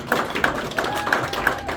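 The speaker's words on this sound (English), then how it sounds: "a round of applause again for Jeremiah and Elisa" An audience at a magic show in a Nashville venue applauds, with a steady, rhythmic patter of handclaps landing at an even pace, fairly close and full.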